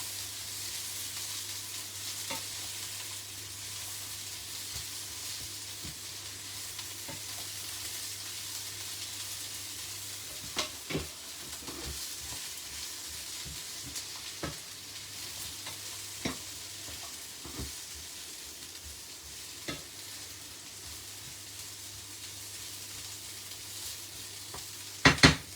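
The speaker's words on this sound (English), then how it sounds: "Just giving these vegetables a good mix." Vegetables stir-fried and sizzling in a hot pan for chicken noodles, a steady fry hiss throughout with occasional sharp clinks and scrapes of stirring, close and fairly quiet, no talking.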